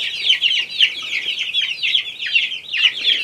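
One-month-old chicks, among them a Barred Rock, chirp and cluck in a continuous close chorus of high, wavering peeps with no pauses.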